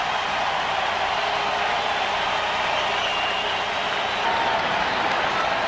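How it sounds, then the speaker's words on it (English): Toronto baseball crowd at a 1993 ALCS playoff game between the Blue Jays and White Sox, a steady broad roar of cheering and applause that holds at an even level without breaks. "The Toronto crowd into it early."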